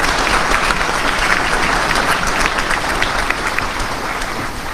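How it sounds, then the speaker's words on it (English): An audience at a US Army Intelligence and Security Command change of command ceremony gives a full, steady round of applause, dense and sustained, tapering slightly at the end. "Please join me in a round of applause for the Color Guard and Quintet."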